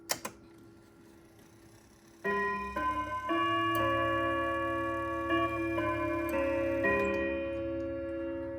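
A 1978 Pearl Chelsea grandfather clock plays its Westminster chime indoors, starting with a few faint mechanical clicks and then a steady run of ringing rod-like notes that overlap and sustain, loud and close with no talking.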